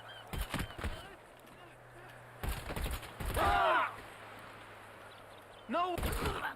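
Gunfire in GTA 5 Online, a few sharp broadband shots in short bursts spread across the moment, mixed with game sounds and a few brief voice-like calls.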